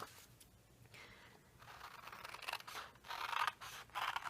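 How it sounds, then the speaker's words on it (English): Scissors cut paper flowers along a drawn line for a Z-fold card, with close, quiet snips and rustling paper in short bursts and no speech. "I'm going to go ahead and cut it."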